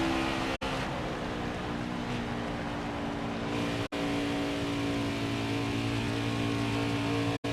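Race truck engine in the NASCAR Heat 5 racing game, a continuous loud roar at steady throttle, cut by a few brief dropouts.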